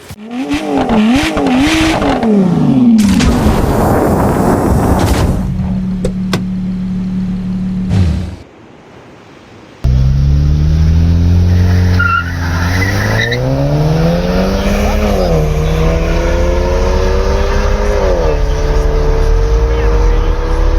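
A Mercedes E320 with a 3.2-liter V6 in a Need for Speed racing game, loud revving engine climbing through gear shifts with tire squeal and skids, a brief drop to quiet before the engine roars again.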